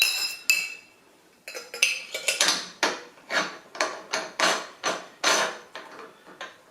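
Metal nozzles on a sausage stuffer are swapped out in a kitchen, switching to a bratwurst casing nozzle for wild-game salami work. The result is a run of sharp metallic clinks and knocks, close and fairly loud, in a steady rhythm with no talking.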